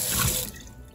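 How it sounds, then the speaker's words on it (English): Running water rinses a hobby tool under a tap, a steady wash that flows loudly for about half a second and then eases to a softer trickle. "Next, we just want to give that a rinse"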